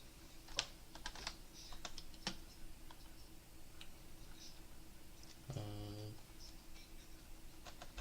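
Keystrokes on a computer keyboard typing a short chat command, scattered faint taps in uneven bursts over a low steady hum, with one brief louder buzzing tone near the end.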